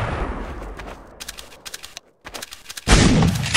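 Gunfire in Counter-Strike: Source: rapid bursts of shots, a brief silence, then more shots and a loud heavy blast near the end.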